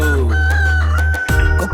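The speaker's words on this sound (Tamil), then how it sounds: "கொக்கரக்கோ என்ற சத்தம் கேட்டாலே கேட்டாலே பேதுரு அன்னை ஞாபகம் தானே" A rooster crows loudly and close in a children's action song, one sustained drawn-out crow that breaks off abruptly into the start of the next sound.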